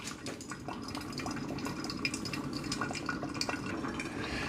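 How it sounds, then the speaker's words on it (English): A Mr. Coffee Perfect Brew coffee maker runs a hot-water brew cycle with no coffee in it, giving a steady close hiss and gurgle of hot water with scattered drips for several seconds, no voices. "This is just simply running a hot water through it, doing a brew cycle without doing a brewing coffee."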